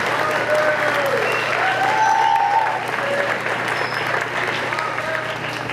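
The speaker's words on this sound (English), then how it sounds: "So please everybody give a giant round of applause for Mr. Barber." Applause from the audience at a middle school winter band concert, a steady wash of clapping close by that holds for a few seconds and then thins a little toward the end.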